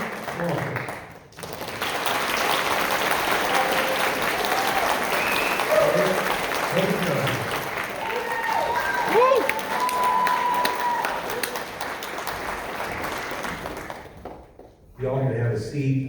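Sustained applause from a sizable crowd at a political candidate forum, with scattered whoops and voices mixed in, fading out before a voice begins speaking at the end.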